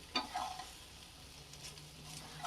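Okra (ladyfinger) cooking in about three tablespoons of oil over a medium flame, a soft steady sizzle with a few faint utensil taps near the start, quiet and close with no voices.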